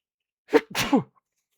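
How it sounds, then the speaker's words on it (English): A single loud, close sneeze with a sharp intake and burst, followed by silence. "Had to sneeze."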